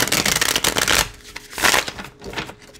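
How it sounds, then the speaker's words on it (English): A tarot card deck is shuffled by hand in quick bursts, a papery riffling flutter followed by a few shorter rustling passes, close and alone with no talk. "And let's give the deck a quick shuffle."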